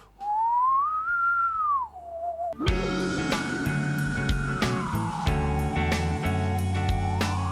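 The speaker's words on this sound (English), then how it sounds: "it's kind of got this winds whistling" A high, wavering whistle-like tone rises and falls slowly like wind, first alone and then over a full band with drums and bass.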